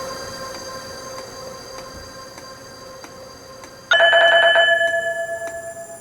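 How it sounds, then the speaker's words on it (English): Blue line train passing, with a steady tonal hum that gives way to a sudden loud burst of ringing, squealing metallic tones near the end, gradually fading in pulses. "there comes another train, which is the blue line this time"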